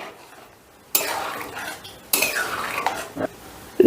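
Moong dal with paneer and coriander leaves is stirred in a pot, making a metal spoon scrape and clatter in two long, close bursts, with a short clink near the end.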